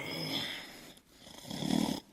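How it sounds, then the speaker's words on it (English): Loud snoring from a sleeping wolf: two drawn-out rasping breaths, a nasal inhale followed by a deeper rumbling snore, close and alone. "That grandmother has a mighty snore."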